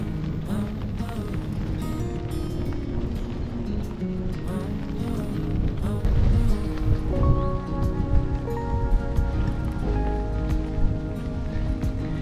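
Steady rain patters and hisses around a Brompton folding bike ridden across Funen, Denmark, a constant wet wash with rolling road noise and no talk.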